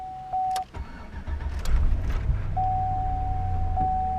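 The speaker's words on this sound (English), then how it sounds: "If I turn the car on," A GM Suburban engine cranks and starts after a short chime, then settles into a steady low idle as a tone sounds again over the running motor.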